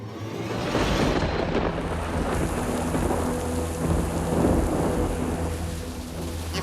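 Heavy, steady rain pours down in Hong Kong while low thunder rumbles and swells beneath it, continuous and loud, with no voices.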